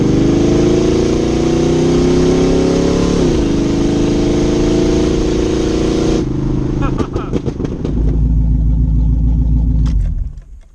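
Carbureted C4 Corvette V8 with a three-speed swap runs loud and close, a steady idle whose pitch shifts before turning rougher and lumpier, with a voice talking over part of it.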